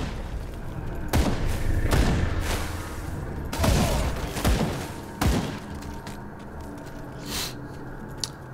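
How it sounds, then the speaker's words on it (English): Grenades exploding in the action role-playing game Grim Dawn, several sharp booming blasts in quick succession over a steady background of game noise, some close and loud, others softer. "I like these grenades"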